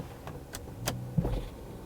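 An electric rear sunshade motor whirs inside an Audi S8 sedan, a faint, brief mechanical hum with a few light clicks, heard up close in a quiet cabin.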